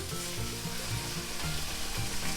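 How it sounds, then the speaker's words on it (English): Cured bone-in ham chops sizzle loudly in a hot cast iron skillet, a steady crackling hiss with occasional stirring or shifting sounds and no talking. "See there how it sizzles up?"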